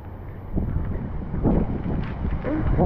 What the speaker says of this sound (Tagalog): Dito lakas din ang hangin.